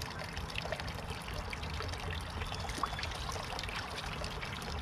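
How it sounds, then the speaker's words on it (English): Water pours steadily from a rain barrel hose in an outdoor flood-prevention setup, a constant soft rushing trickle that stays even throughout with no talk. "we'll see if there's enough water left in that rain barrel to finish filling it"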